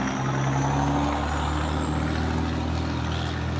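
Loud, steady engine rumble from a truck passing at an intersection at night, a constant droning roar that fills the whole stretch and gradually eases.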